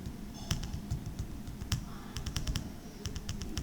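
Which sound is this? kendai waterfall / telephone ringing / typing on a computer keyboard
typing on a computer keyboard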